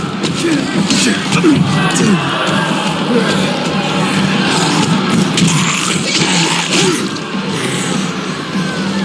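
A dense crowd cheers and shouts continuously in the Dying Light 2 game's gilded arena, loud and steady with whoops and bellows over a roaring babble.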